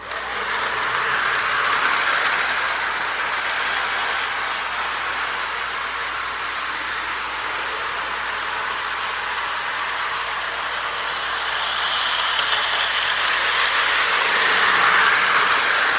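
A Lionel toy switcher locomotive runs along its track with a steady, close whirring hiss from the small DC motor, swelling slightly toward the end, with no talking.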